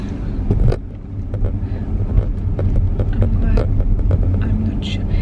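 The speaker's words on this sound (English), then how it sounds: "So I'm gonna drive there anyway" A car drives along a street, its low engine rumble and road noise continuous and close from inside the cabin, with a few clicks and rustles over it.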